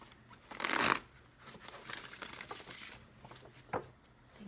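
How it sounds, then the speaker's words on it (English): Tarot cards being shuffled by hand, a loud riffle near the start followed by softer rustling and a sharp snap toward the end. "we're going to have one more shuffle"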